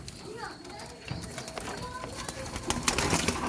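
Hungry pigeons in a loft at feeding time coo and flutter, with soft calls, scratching and wingbeats growing busier toward the end while a person talks over them.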